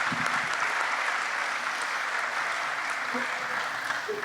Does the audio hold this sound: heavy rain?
no